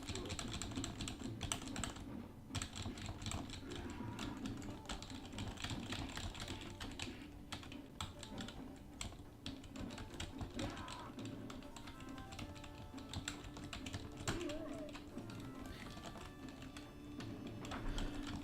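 Computer keyboard keys pressed in fast, irregular bursts while playing the Final Fight beat-'em-up on a computer, a steady clatter of taps running the whole time over a background of game sound.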